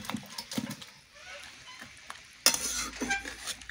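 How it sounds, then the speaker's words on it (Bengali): Fried rohu fish pieces dropped into a boiling curry in a village kitchen, with soft stirring and bubbling at first, then a sudden louder burst of sizzling and splashing as the fish goes in, continuing close and steady. "এবার আমি ভেজে রাখা মাছগুলো দিয়ে দিচ্ছি।"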